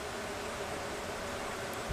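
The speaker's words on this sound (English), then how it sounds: "Now listen to your bees." Honeybees around an open hive being inspected at summer's end, giving a dense, steady hum of many wings that stays even, then a brief soft rustle right at the end.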